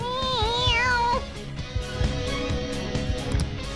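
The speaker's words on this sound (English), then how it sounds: "Meow." Mona, the cat character in the Persona 5 Royal video game, lets out a clear, close meow with a rising and falling pitch, followed by game background sounds and soft thuds.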